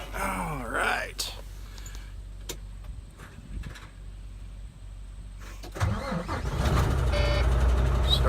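A semi truck's engine cranks and catches after a stretch of clanks and shuffling, then settles into a loud, rough, steady idle, with a few voices in the background.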